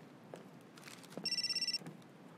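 A telephone bell rings once in a brief, rapid trill, heard close in a quiet room with a few soft bumps and footsteps around it.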